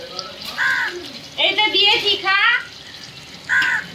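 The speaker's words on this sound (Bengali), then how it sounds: "এখানে অনেকগুলো কাক আছে," Several crows gather to be fed at a home and give a few harsh caws near the start and end, mixed with a person talking to them.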